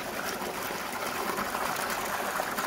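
Water runs steadily from a tap into a container during manual mineral fertilizing, a continuous close gushing hiss that holds even throughout.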